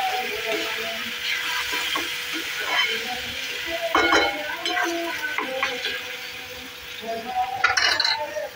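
Chicken chilli frying in a pan as tomato is stirred in, with a constant sizzle and repeated metallic scrapes and clinks of the spoon, close by, while distant chanting or other background sound faintly carries in.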